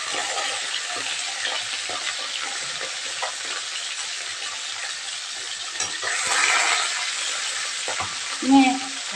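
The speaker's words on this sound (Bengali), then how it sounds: "আর এদিকে তো মাছ ভাজা এখনো চলছে" Bata fish frying in a pan, a steady dense crackling sizzle that runs throughout, with a brief louder flare near the end and no talking.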